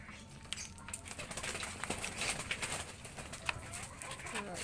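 Pigeons cooing at close range, soft low calls repeating over a steady hiss of outdoor background noise, with no one speaking.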